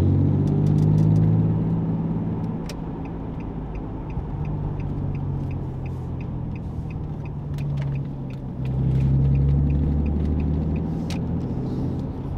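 An Infiniti G35 (V35 Skyline) fitted with a throttle controller gives a steady, loud engine rumble throughout, with the revs swelling again near the end. No one speaks.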